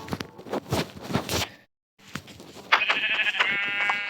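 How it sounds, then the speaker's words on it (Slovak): Sheep bleats in the Minecraft video game, a short game animal cry after a few quick footstep-like sounds and a brief silence, ending in a sustained, bright tonal bleat that stands out clearly. "Jedna ovca."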